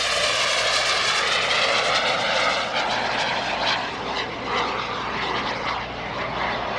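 A SubSonex mini jet aircraft flying at an airshow, its loud continuous engine roar close by, slowly shifting in pitch as it passes, with no talking over it.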